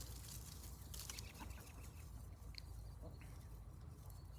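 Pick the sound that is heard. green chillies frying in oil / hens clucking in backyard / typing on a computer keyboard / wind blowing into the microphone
hens clucking in backyard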